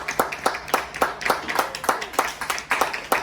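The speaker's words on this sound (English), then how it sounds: "please give a round of applause to each and every one of these" Guests at a sports medicine fellowship banquet clap, a steady, evenly paced run of sharp claps sounding fairly near and distinct for several seconds.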